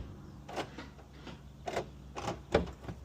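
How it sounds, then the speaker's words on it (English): Rear door locks on a BMW 335i clicking, four short, sharp mechanical clacks spaced about a second apart, close and distinct over a quiet background. "I heard the locks in the back."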